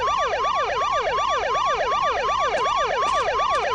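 A loud, continuous wailing video game police siren in a car simulator, cycling rapidly up and down in pitch, steady and close throughout.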